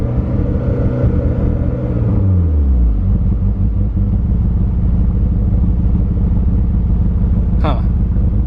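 A car engine idles loudly and steadily near its operating temperature, with a couple of brief rev changes early on and a short higher burst near the end, continuous and close throughout.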